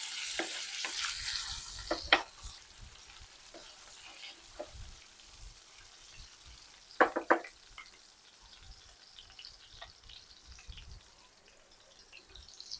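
Shrimp sizzles in a pan with golden brown garlic, soft frying hiss broken by a few sharp clinks and stirring scrapes; moderately quiet, with no one talking.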